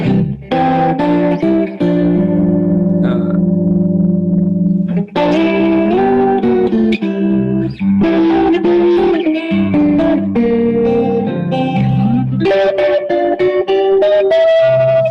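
Electric guitar through a tri-chorus effect pedal, lush and shimmering, chords and melodic lines with wide warbling modulation and some distortion, playing continuously and loud.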